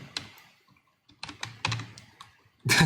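Keystrokes on a new computer keyboard, several separate bursts of clicking taps at close range with short pauses and a louder cluster at the end, no voices.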